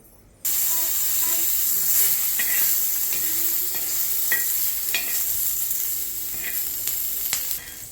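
Green chilies roast and sizzle on a hot tawa, a steady close hiss broken by scattered crackles and pops, with occasional stirring scrapes.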